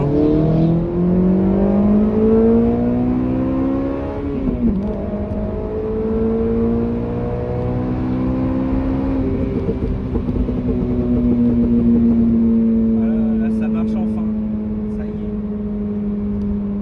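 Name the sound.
Honda Civic Type R engine revving while driving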